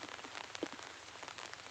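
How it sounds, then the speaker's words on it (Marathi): Heavy rain pours down in a village, a dense, steady hiss of drops on surfaces that goes on without a break, moderately quiet, with no voices. "मरणाचा पाऊस चालू आहे भाऊ."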